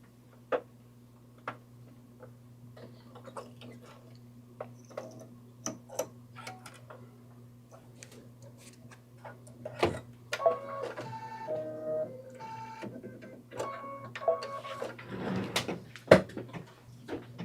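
Brother embroidery machine stitching out a patch, a steady low motor hum under rapid ticking needle strikes, with faster mechanical whirring bursts and clatter toward the end, close and fairly quiet.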